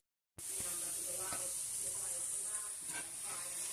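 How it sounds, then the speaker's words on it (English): Vegetables and peppers sautéing in a pan while a meatloaf is being made: a steady close hiss of sizzling fills the whole stretch, with faint clinks and quiet low sounds beneath it. "Saute the vegetables right now."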